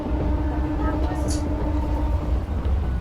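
A crowded MEMU passenger train running between Vijayawada and Bhimavaram, a steady low rumble and rattle heard from inside the carriage, loud and continuous with faint higher squeals and murmured voices.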